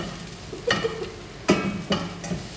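Food sautéing in a hot pan, a soft steady sizzle broken by a few sharp scraping stirs of the utensil against the pan, close and clear with no talk.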